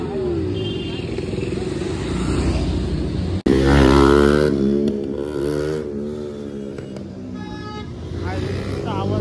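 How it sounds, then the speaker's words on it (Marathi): Motorcycles on a group biker ride near Lonavala rumble loudly and steadily throughout, with a sharp break partway and engine roar resuming, while people talk over the noise. "काय आला गाडीचा आवाज ऐकला तू?"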